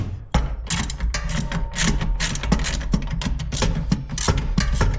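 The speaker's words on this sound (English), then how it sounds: "this is where the ratcheting wrenches really come in handy." A ratcheting wrench clicks in quick, irregular bursts while removing bolts during installation of motorcycle saddlebag guards, close and crisp, with small metallic knocks between strokes.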